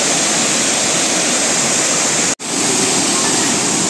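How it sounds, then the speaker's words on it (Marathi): Somtirth waterfall in Nivendi, Konkan, flows between two hills, giving a loud, steady roar of rushing water that drops out for a split second before resuming. "दोन्ही बाजूला या डोंगराच्या मधून हा धबधबा वाहत येतोय सोमतीर्थ धबधबा"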